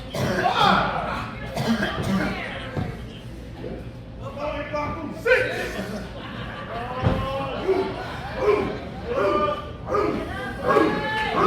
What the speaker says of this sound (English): you hear the barks from the crowd getting behind Blade Brown